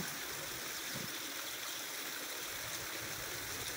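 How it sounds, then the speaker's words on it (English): Steady rushing and burbling of mountain stream water running through the Black Forest botanical garden in Germany, a continuous close wash of flowing water with no voices. "here is uh, running water from the mountain"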